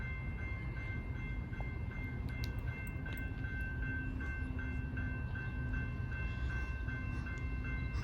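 A distant crossing bell dings repeatedly over the steady rumble of a passing passenger train on the Indiana & Ohio Railway in Loveland, Ohio, in a no-horn zone, heard faint and far off.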